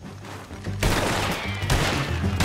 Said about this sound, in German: jetzt schießen sie doch